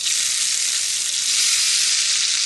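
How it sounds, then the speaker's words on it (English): Steady, dense sizzling of hash browns frying in a hot oiled pan, loud and close, a continuous crackling hiss with no pauses or voices. "I really do want to make sure that I get a big sizzle when I go on in here"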